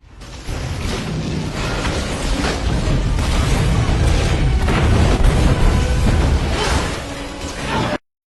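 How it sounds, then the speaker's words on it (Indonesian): A series of powerful explosions shaking the ship Poseidon in a film, a loud sustained rumble of booms and crashes that builds over several seconds and then cuts off abruptly. "serangkaian ledakan hebat mulai mengguncang kerangka Poseidon"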